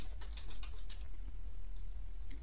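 Quick clicking on a computer keyboard during Java programming, close and fairly steady, with a low hum underneath and no voices.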